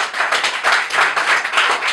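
Audience applause at a church gathering, a dense steady patter of many hands clapping together at close range, continuous and fairly loud with no talk.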